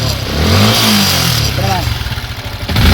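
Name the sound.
Yamaha Sniper 155 motorcycle engine started and revved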